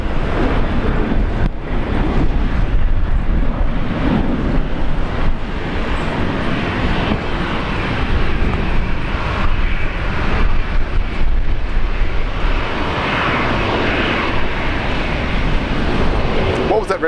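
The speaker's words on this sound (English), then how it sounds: "Qantas 509, very nice takeoff" Qantas flight 509, registration VH-VZB, taking off from Brisbane Airport bound for Sydney: a loud, sustained jet engine roar with heavy low rumble filling the whole stretch, with voices talking over it at times.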